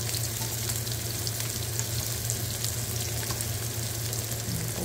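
Chopped garlic fries loudly and evenly in a pan for chicken adobo, making a dense, continuous close-up sizzle while it is stirred, with no voices.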